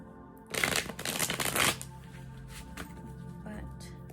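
Cards riffle and flutter together in a loud burst lasting about a second, followed by a few softer taps and slides of the deck.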